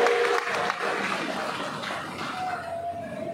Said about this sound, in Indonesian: Anthony, Ahli Dewan Undangan Negeri Malala, berikan tepukan kepada beliau